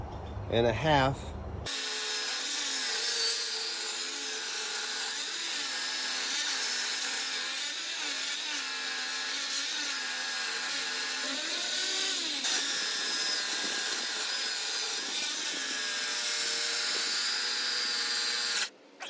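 Power saw cutting hardwood pallet boards down to size, a loud sustained motor whine that bogs slightly under load and runs steadily for most of the stretch, close by, ending abruptly.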